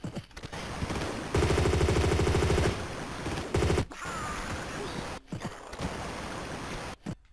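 Rapid automatic gunfire from the video game Tomb Raider 2, a loud sustained burst of repeated shots in the middle, surrounded by flowing water and game ambience with a few sharp bursts.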